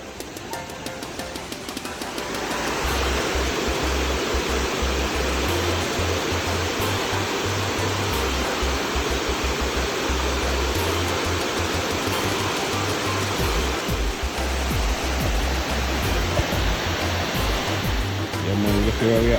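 Dunn's River Falls in Ocho Rios, Jamaica, roars as a continuous broadband rush of falling water. The sound swells in after a quieter start and stays loud and steady, with low rumbling underneath.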